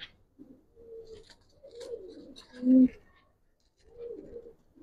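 Racer pigeons coo softly and repeatedly at close range, low throaty calls coming in several rounds with short pauses between them.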